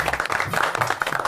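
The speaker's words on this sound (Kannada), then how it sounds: "ಚಪ್ಪಾಳೆ." Audience applause in a Kannada TV serial scene: a brief, steady patter of many hands clapping together at moderate loudness.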